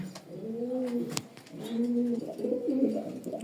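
Racing pigeons coo nearby in soft, low, rolling phrases, one after another, with a brief faint tap partway through and no talking.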